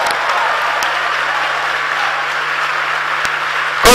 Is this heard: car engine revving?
no